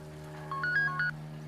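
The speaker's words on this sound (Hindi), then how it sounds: "भाई बहन का फोन है।" A short electronic ringtone melody of stepped tones plays over a steady low hum, moderately loud and close.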